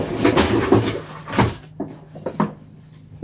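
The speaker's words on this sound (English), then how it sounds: "I've got them all in a box in my drawer, so that is why you can hear a lot of noise" Paints in a box inside a drawer give a clattering rummage, with several sharp knocks and rattles. Quieter, scattered clicks follow as items are shifted.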